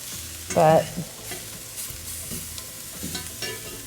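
Meat fries in a pan after being flipped, a low steady sizzle near the mic broken by a sharp scrape and clatter early on and a few lighter utensil taps later.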